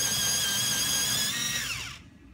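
A SMARTPRO heavy-duty electric pencil sharpener grinds a colored pencil with a loud, steady high whine that drops in pitch and cuts off after about two seconds, leaving quiet room tone.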